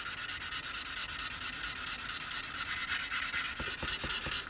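A seam on a Tamiya 1/48 Beaufighter plastic model kit is sanded by hand in quick, steady back-and-forth strokes, a close, even rasping rhythm with a few sharper scrapes toward the end.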